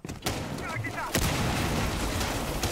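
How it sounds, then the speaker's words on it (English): Breach charges detonating in the Rainbow Six Siege video game during a North America League match, heard as a loud explosive burst with a second sharp blast about a second later, dense and booming. "Explosion in front of Packer's eyes as now one of those secondary breach charges goes down"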